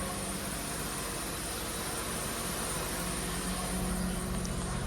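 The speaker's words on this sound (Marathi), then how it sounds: "हा आवाज इंजिनकडे जो बेल्ट असतो ना त्या बेल्टचा आवाज येतो" A car engine idles steadily with a constant whirring, hissing drone from the engine belt, even and unchanging throughout, no voices.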